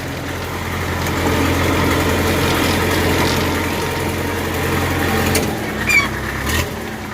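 Belarus 562 floater tractor engine running at a steady low rumble while reversing, close by, then dropping off near the end with a few clanks and knocks.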